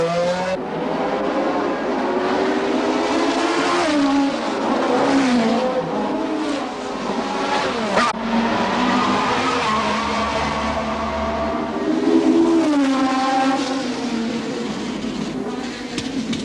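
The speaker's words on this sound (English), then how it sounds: "Gradually, the cars are inched up to peak performance." Racing cars at the 1969 Monaco Grand Prix roar past one after another, their engines rising and falling in pitch through gear changes and Doppler sweeps, loud and close throughout.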